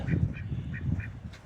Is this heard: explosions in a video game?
no